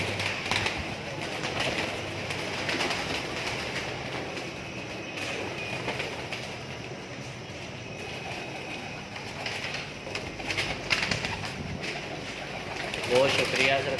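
Teddy pigeons coo among a flock, their soft calls blending into a busy, noisy background with a voice talking throughout.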